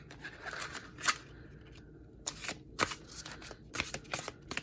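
A fresh, slick tarot deck shuffled straight out of the pack: several separate crisp riffles and card-sliding swishes, each a short burst with brief pauses, heard up close and alone.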